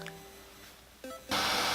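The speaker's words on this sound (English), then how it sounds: "so sorry about the noise, that's just the drone" A DJI Mavic Pro drone connecting to its controller gives a few faint electronic tones, then a sudden loud, steady whirring burst that starts abruptly and holds to the end.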